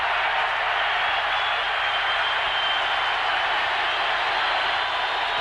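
A stadium crowd at a 1987 Monday Night Football game between the Raiders and the Seahawks, a steady loud wash of roaring noise that holds without a break throughout.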